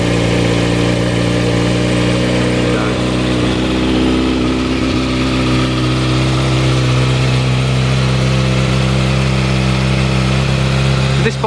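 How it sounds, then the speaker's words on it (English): A Kawasaki motorbike engine idling steadily after a starter thumb, a close, loud, continuous rumble with little change in pitch throughout. "you can see instrument panel do its self check, and just thumb the starter."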